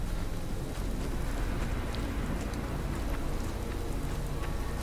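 Steady rain falls throughout a forest scene in a video game, a dense, even hiss of drops on surfaces with a low rumbling undertone, continuous and close with no voices.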